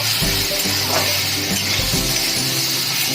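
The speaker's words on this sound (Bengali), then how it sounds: "মশলাটা এটা ভাজা ভাজা হয়ে এসেছে।" Ground spice paste for a vegetarian taro-stolon dish fries in a pan with a loud, continuous hiss, and a low droning hum and scraping stirs run beneath it.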